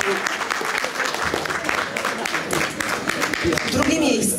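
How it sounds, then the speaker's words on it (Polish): An audience at a patriotic song festival claps warmly and steadily throughout, with a voice speaking over the applause. "Gorące brawa."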